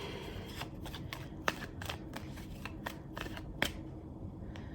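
A deck of cards is shuffled by hand close by, giving a run of quick papery riffles and sharp snaps in an uneven rhythm against soft room noise, with no talking.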